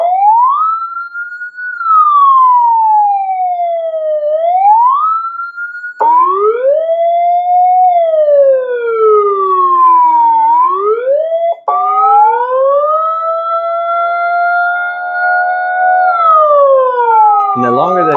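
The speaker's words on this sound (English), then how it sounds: "and then let's see the Yelp" A BooYu 400W emergency warning siren runs its Yelp tone, loud and continuous, with rapid rising-and-falling pitch sweeps that shift pattern partway through and keep going for the whole stretch with no talking over it.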